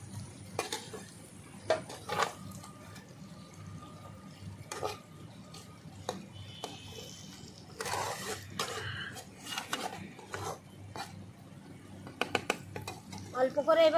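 Pomfret fish curry with spices being stirred and fried in a pan, soft scraping and clinks of a utensil against the pan over a low sizzle, with intermittent louder stirring strokes.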